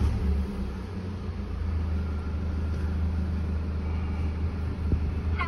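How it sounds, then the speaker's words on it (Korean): A BMW 520d diesel engine idles with a low, steady rumble that stays even and fairly quiet throughout, with no other sounds on top. "일단 시동 한번 걸어서 확인해 볼게요"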